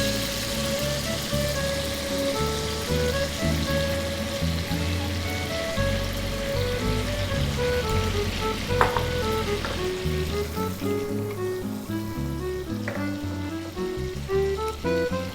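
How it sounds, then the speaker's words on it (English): Butter and apple pieces sizzling steadily in a large pan, a continuous fizzing crackle under light background music. "Let this butter melt, and once the butter is completely melted, throw in your apples in it."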